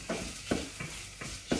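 Garlic and mince cooking down in a pan, a soft sizzle broken by rhythmic scraping strokes of a spoon about every half second, close and fairly quiet.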